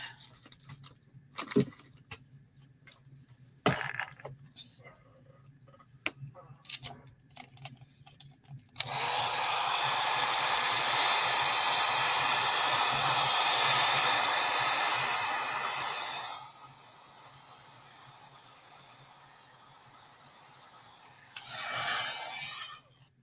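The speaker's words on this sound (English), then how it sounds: "Let me hit them real quick with the heat gun. Just make sure they're drying." A heat gun drying paint on a wooden box, its loud, steady blowing roar running for about seven seconds after scattered light knocks and handling sounds, then cutting off before a brief final rustle.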